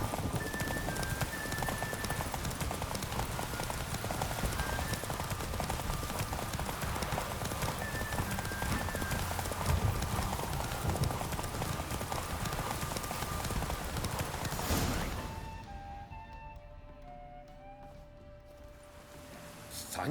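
A horse gallops in The Witcher 3: Wild Hunt, rapid hoofbeats pounding loudly and continuously before slowing and fading out near the end, with a brief neigh and some faint speech.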